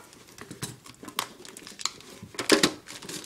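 Plastic wrapping on a Blaster box of trading cards crinkles and crackles up close as it resists opening, coming in irregular sharp bursts with a louder flurry near the end.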